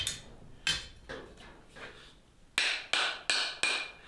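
A rounding hammer, its new handle set without wedges, strikes metal in sharp ringing blows: a few lighter, uneven hits, then four loud, evenly spaced strikes close by.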